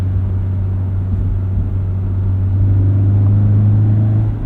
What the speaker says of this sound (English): We have the fake engine noise turned off in this BRZ.